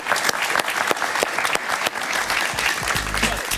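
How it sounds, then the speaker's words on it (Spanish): A television studio audience on a talk show breaks into loud, sustained applause, a dense wash of clapping hands that carries right through with a little crowd noise. "Un aplauso para él."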